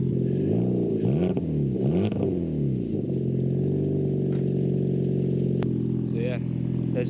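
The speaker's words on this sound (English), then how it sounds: "there's the Hornet on the Fiesta. Sounds quite good. I'll just get a little rev for you." A Mk6 Ford Fiesta fitted with a Hornet exhaust back box, slightly smoky, revs up and falls back twice in quick succession, then settles into a steady, close idle drone.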